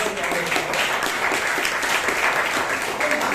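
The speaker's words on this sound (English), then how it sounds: "Give a round of applause." Dense, continuous applause from the audience at a Toastmasters club meeting in Bangalore, steady and fairly loud for the whole few seconds with no one speaking.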